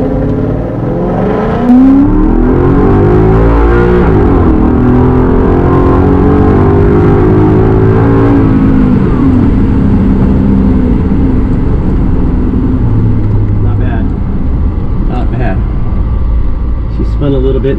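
A Coyote-engined dually crew-cab truck revs hard under load during a pull, its loud engine note climbing through sweeping harmonics, then holding steady before tapering into a lower drone with faint clicks near the end.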